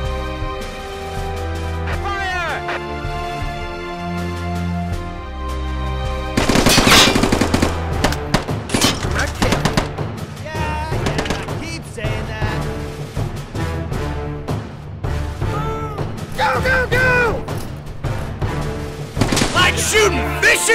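Rapid machine-gun bursts and rifle fire from the Men of War Assault Squad 2 Project 80 mod's embassy battle, loud and dense over music, with shouted voices breaking through the combat.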